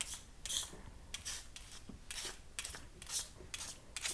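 A spritzer bottle sprays isocol in about eight short, breathy hissing bursts at an uneven rhythm, close and soft, with no talk.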